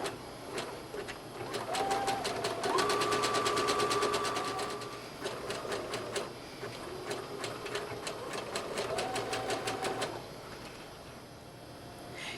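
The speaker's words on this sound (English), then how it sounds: "Now we'll finish those edges with the zigzag stitch." Domestic sewing machine running a zigzag stitch along fabric edges of a colonial costume dress, a rapid even needle clatter in two bursts, fairly faint and close, with a thin motor whine rising and falling.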